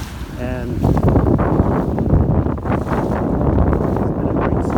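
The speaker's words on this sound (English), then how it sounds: "Lots of wind on Pensacola Bay." Strong wind roars across the microphone on Pensacola Bay during a VX One sailboat race, a loud, continuous buffeting gust noise with water and boat sounds underneath and a voice talking over it.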